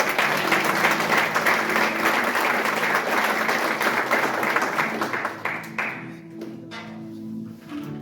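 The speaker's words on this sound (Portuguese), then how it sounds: "Você pode aplaudir a palavra do Senhor?" A church congregation applauds the word of the Lord during a Portuguese-language service, a sustained burst of clapping over a low organ-like drone that thins out and fades to scattered claps near the end.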